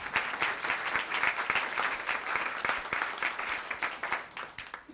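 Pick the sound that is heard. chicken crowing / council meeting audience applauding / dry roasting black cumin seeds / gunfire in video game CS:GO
council meeting audience applauding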